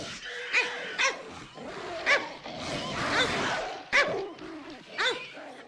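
A dog barks at a television in a film scene, with a run of separate sharp barks and yips spread across a few seconds, close and fairly loud, under other background sound.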